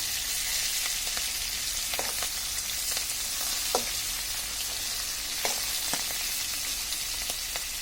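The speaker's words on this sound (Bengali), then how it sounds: "আমাদের মাছ ভাজাটা হয়ে গেছে, এখন আমরা এটাকে নামিয়ে ফেলবো।" Hilsa fish frying in mustard oil in a pan gives a steady, close sizzle with scattered small pops and crackles throughout, and no voices.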